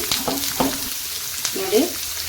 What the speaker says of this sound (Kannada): ಇದನ್ನೀಗ ಎಣ್ಣೆ ನಾವು ಫ್ರೈ ಮಾಡ್ಕೋಬೇಕಾಗತ್ತೆ ಚೆನ್ನಾಗಿ ಕೆಂಪಾಗೋ ರೀತಿ